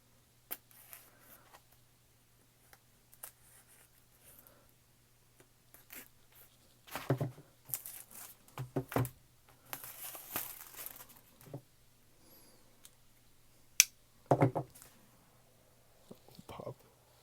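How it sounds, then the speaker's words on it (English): Plastic wrap on an Apple TV (4th generation) box is cut and torn in short bursts of crinkling and ripping, close and quiet, separated by near-silent pauses. "So let's go ahead and cut this plastic."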